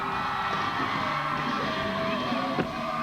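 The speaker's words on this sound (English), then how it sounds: "Cheer him on." Crowd cheers and whoops at an X Games inline skating event, a steady wash of noisy spectators with a few louder yells rising out of it and a short bang near the end.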